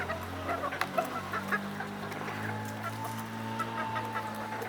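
Adult Andalusian chickens cluck in a continuous low murmur, with several soft overlapping calls over a steady background hum; no speech.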